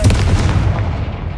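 Confringo blasting spell going off in Hogwarts Legacy, a loud deep boom with rumbling low-end that rolls on and slowly decays over a second or so, with no speech over it.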